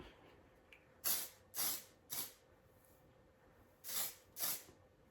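A hair spray or styling mist is sprayed onto hair in several short, sharp hissing bursts, first three quick ones, then two more after a pause, with quiet room sound between them.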